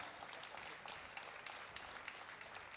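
Faint, steady applause from an audience standing to clap as a youth conference website is inaugurated at a church closing Mass, a dense wash of many hands heard from a distance.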